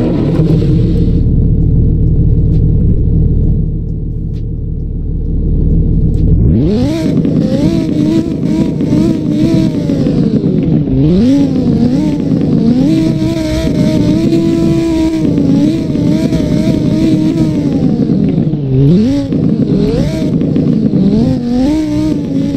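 A car in the Roblox game Southwest Florida cranks to life after a low idle rumble, then revs repeatedly with rising and falling engine pitch, loud and close, with no one talking.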